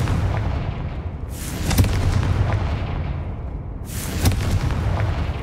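Confringo blasting spell explosions in the game Hogwarts Legacy: two booming bursts a couple of seconds apart, each a sharp crack swelling over a rumbling background.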